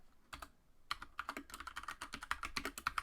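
Rapid, uneven keyboard typing, crisp plastic key clicks in quick bursts after a brief pause, close by with no talking.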